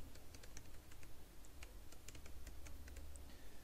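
Quiet clicking keystrokes on a computer keyboard while an email address is typed, irregular taps at close range over a low background hum.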